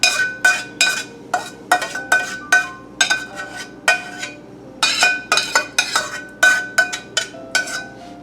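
A metal spoon scrapes and taps against a fine chinois, pushing bordelaise sauce through into a pan below, sharp clinking strokes in quick irregular bursts, close and loud.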